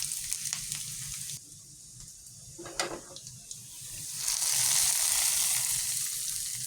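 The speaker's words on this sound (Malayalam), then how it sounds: "അപ്പോൾ ഉള്ളി ഇച്ചിരി നമുക്ക് നന്നായിട്ടൊക്കെ മൂപ്പിച്ചിടാം." Onion fries in a pan for a country-style curry: a continuous close hiss and sizzle that drops briefly and then swells louder, with a few stirring scrapes and no speech.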